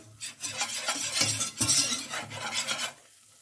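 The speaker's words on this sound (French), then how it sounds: "Donc là, vous fouettez bien, vous mélangez les deux." A whisk scrapes and stirs flour into a roux in a pan for a monkfish blanquette sauce, producing steady rhythmic metallic swishing strokes that are close and fairly loud, then fade out at the end.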